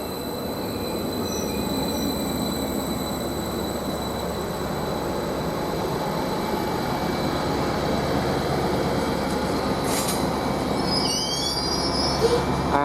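A train pulls into Westerfield station on the Felixstowe–Ipswich line, a steady rumble of wheels on rails with high metallic squealing and brake screeches building as it slows to a stop.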